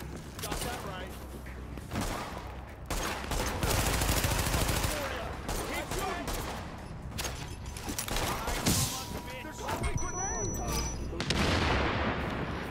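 Gunfire from the video game Tom Clancy's The Division, dense bursts and rapid volleys that run loud and steady under excited talk from players.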